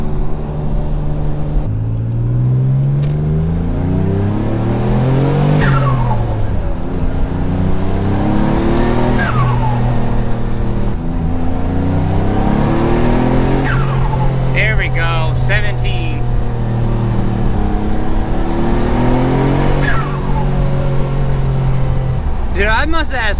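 A Mitsubishi 3000GT VR4, its CX Racing intercooler piping just fixed, revs loudly up and down in repeated rising and falling sweeps, close and continuous, with a voice talking over it.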